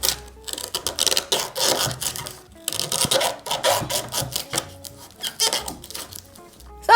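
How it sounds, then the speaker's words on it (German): A knife cuts pieces of sugarcane and strips off the tough rind, producing close, repeated rough scraping and rasping strokes in irregular bursts with brief pauses. "Also diese Rinde muss auf jeden Fall ab. Ich schneide mir hier dann so Stücke ab."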